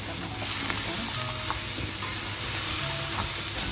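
Bitter melon, eggplant and shrimp stir-fry in a hot pan with seasoning, giving a steady, dense sizzle with occasional soft scrapes of stirring, close up and with no talk.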